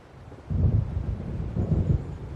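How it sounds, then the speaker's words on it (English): Thunderstorm in Alan Wake: deep rolling thunder rumbles in after a quiet start, two heavy low swells over a steady windy, rainy wash. "It seems there's a storm coming."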